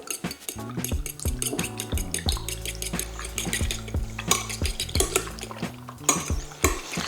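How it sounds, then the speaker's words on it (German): Ratatouille vegetables are stirred in a pan, with repeated scraping clinks of a utensil against metal and a soft bubbling, sizzling bed underneath, no speech. "Hier können wir ein bisschen rühren."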